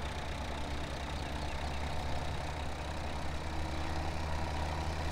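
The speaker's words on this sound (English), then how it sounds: "It's a nice little tractor for the rake" A small tractor engine idles in Farming Simulator 17, a steady low mechanical hum with an even, unbroken drone and no voices over it.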